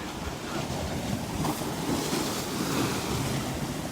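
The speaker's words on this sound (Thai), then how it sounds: "ชอบฟังเสียงคลื่น" Sea waves wash continuously onto the shore at night, a steady broadband surf roar mixed with gusty wind buffeting the microphone, with no voices.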